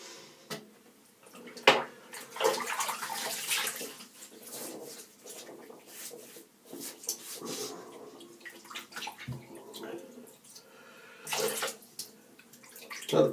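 Water from a tap runs and splashes into a basin while a face is washed, with irregular splashing and dripping, moderately close, continuing without any talking.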